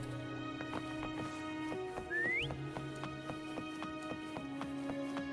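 In the Wuthering Waves game, a single short rising whistle calls a horse, heard over steady background music with repeating plucked notes and soft hoof-like beats.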